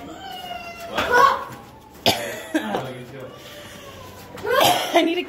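A child coughs several times in short harsh bursts, close by, with voices and children's chatter around it.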